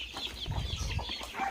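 Chickens cluck softly nearby in the rural Philippine countryside, a few short overlapping clucks against a quiet outdoor background.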